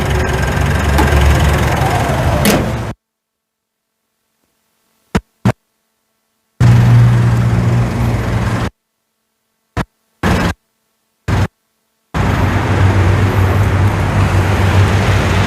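A Mitsubishi Triton 2.4 GLS Plus Limited pickup truck engine idling, giving a loud, close, low steady hum that cuts off abruptly several times with short silent breaks before resuming.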